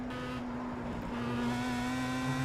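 Pro Mazda open-wheel race car at Road America in a racing simulator, its engine held at a steady high drone as it accelerates hard out of a corner, loud and continuous with no talk.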